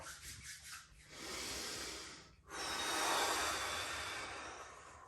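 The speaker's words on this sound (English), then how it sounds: "Just breathing in, waking up, slowly but surely" A slow, deep inhale after waking, followed by a longer drawn breath; close, soft breathy rushes with a brief pause between them, no talking.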